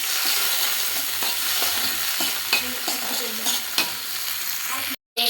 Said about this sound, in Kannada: ಈಗ ಸ್ವಲ್ಪ ಟಮಾಟ ಟಮಾಟ ಹಾಕ್ಕೊಂಡು ನೀಟಾಗಿ ಮಿಕ್ಸ್ ಮಾಡ್ಕೋಬೇಕು